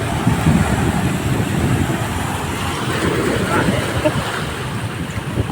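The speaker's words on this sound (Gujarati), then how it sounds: "આ મોજા હેપતા આવે" Sea waves roll and wash against a shore beside a boat, a steady loud surging roar with wind buffeting the microphone throughout.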